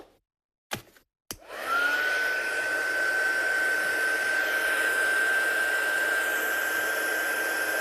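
A hair dryer switches on after a couple of sharp clicks and blows in a steady, loud whirring roar with a faint high whine, drying a freshly painted craft piece in a studio.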